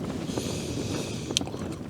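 Steady gusting wind roars and buffets outside a tent, with a faint flapping rustle and one brief sharper flutter near the end.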